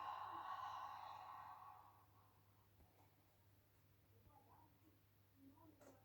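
A breathy exhale during an abdominal and leg Pilates workout opens close and fairly strong, then tapers into a low room hum with faint rustles and a few soft breaths.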